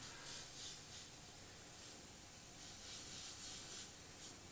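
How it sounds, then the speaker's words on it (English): An airbrush sprays transparent orange urethane paint over a flame design, giving a soft, steady, faint hiss with slight pulses as the spray is pulled on and off, heard alone without talking. "I'm just spraying that over certain areas to knock part of the flame into the background"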